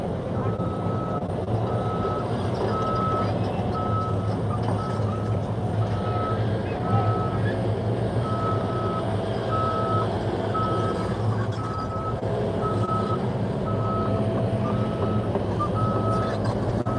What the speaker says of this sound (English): A lot of trucks going by.